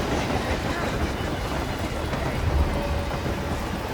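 A train rolls along rails in the Hitman video game, a dense continuous rumble and rattle, loud and steady throughout with a faint squeal and thud near the end, no talking.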